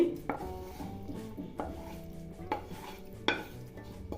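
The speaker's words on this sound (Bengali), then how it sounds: "মশলাটা দিয়ে ভালো করে খিচুড়ির সাথে মিশিয়ে নিব।" Spices being stirred into cooked dal-and-rice khichuri in a pot, a spoon knocking against the pot's sides in a few distinct clinks spaced about a second apart over a steady low kitchen background.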